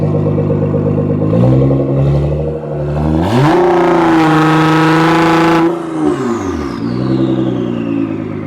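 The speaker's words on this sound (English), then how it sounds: "the turbo noise is so much louder" A close, loud twin-turbo Nissan GT-R engine with a downpipe, ECUTEK tune and Boostlogic exhaust rumbles, then revs up into a sustained roar with a rising turbo whine before dropping back to idle.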